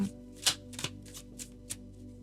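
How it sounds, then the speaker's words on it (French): A tarot card is drawn from a deck by hand, making a few soft papery swishes and light snaps at an uneven pace, close and quiet. "On va prendre une dernière carte également du tarot pour approfondir votre lecture du jour."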